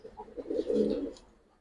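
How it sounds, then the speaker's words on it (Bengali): Pigeons of a bezi cross pair give a soft, close cooing call that swells and fades over a moment, with faint chirpy tones above. "একজোড়া বেজি ক্রস কবুতর"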